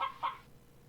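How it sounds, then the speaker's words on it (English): Two quick, faint clucks from a bouncing chicken in a video game, with nothing else heard. "Bouncing chicken."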